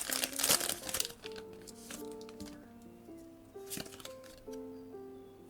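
A Pokémon Journey Together booster pack is torn open, with sharp wrapper crinkling up front, then quieter shuffles and rustles as cards are handled, alongside faint background music tones.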